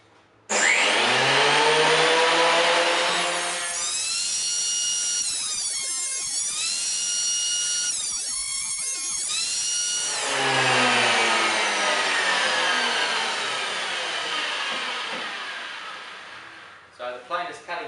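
An electric hand planer with new blades cuts pallet wood boards, giving loud sustained whining passes broken by brief lighter stretches between strokes, then winding down at the end.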